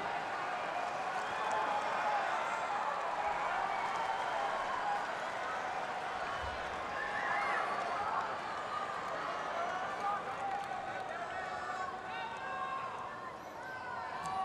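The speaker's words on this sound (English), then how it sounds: "Federer wants the crowd to calm down." Large, noisy US Open tennis crowd at the 2015 Federer versus Isner fourth-round match, a steady dense roar of chatter and murmuring that holds throughout with scattered clapping.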